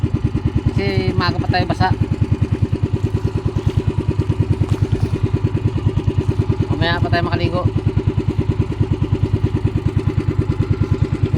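A motorcycle engine with a troubled motor idles close by in a steady, rapid, even putter that runs throughout, with someone talking over it.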